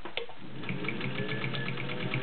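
A vintage Singer Model 201-2 sewing machine runs steadily, its needle mechanism ticking in a fast, even rhythm close up, with no talking.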